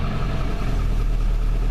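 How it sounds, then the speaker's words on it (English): Ford F-250 diesel engine idling after a relay change, a steady close low rumble with an even mechanical chug throughout and no talking. "That right there is a diesel engine"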